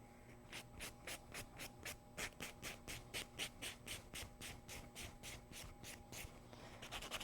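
Steady back-and-forth strokes of a buffer across a nail surface during a manicure, about twenty even, rhythmic rubs, soft and close with no voices.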